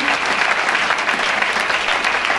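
A church congregation claps together in sustained, dense applause, loud and steady throughout with no pauses.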